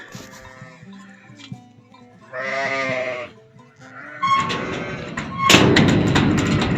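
On a farm with a pregnant ewe that has not yet lambed, sheep let out several loud, quavering bleats in turn, with a nearer, harsher call near the end and some thumping movement around them.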